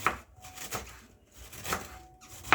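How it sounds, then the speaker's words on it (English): A knife chops cabbage into smaller pieces on a board, giving a few separate, fairly soft, irregular thuds close by with quiet gaps between them. "So we're chopping our cabbage into smaller pieces"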